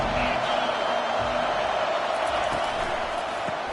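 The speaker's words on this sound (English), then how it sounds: "This crowd bringing an ear-splitting welcome to their visitors." Roaring crowd noise in a college football stadium greeting the visiting team, a steady loud wash of cheering with a broadcast commentator talking over it.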